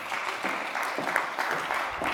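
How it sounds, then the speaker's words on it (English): Steady applause from a conference audience during a closing ceremony, a dense continuous patter of clapping lasting a couple of seconds with no pauses. "Applause. It never stops, you know."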